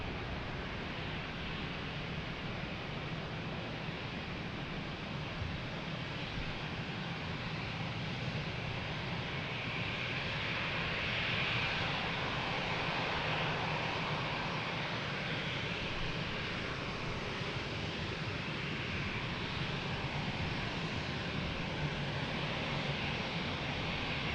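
A fixed-wing airliner taking off at Lisbon Airport, a steady broad jet roar that holds loud and continuous throughout, with no voices present.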